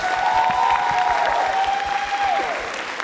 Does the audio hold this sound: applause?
yes